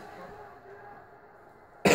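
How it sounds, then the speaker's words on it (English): Someone laughing sets off a sudden loud cough that bursts in at the very end, after a couple of seconds of quiet room background. "I made myself cough."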